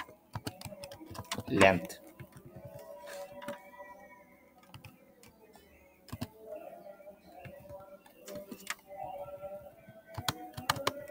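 Code being typed on a computer keyboard, with rapid irregular key clicks in bursts and a louder clack early on, under quiet speech from a nearby voice.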